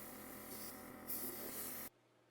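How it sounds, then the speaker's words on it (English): A steady aerosol spray of rust-proofing coating under a vehicle hisses continuously, growing slightly brighter partway through, then cuts off abruptly near the end, leaving quiet. "I found it's easiest to apply the spray coating at the center and work my way out."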